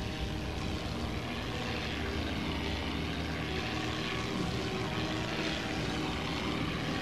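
A propeller airplane's engine drones in a steady, loud roar from a cartoon dogfight, sustained without letup and dense, with no voices over it.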